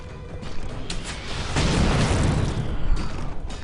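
A big explosion from a Thief's skill in Guild Wars 2, a broad booming blast that swells in about halfway through and rumbles on loudly to the end amid other game effects.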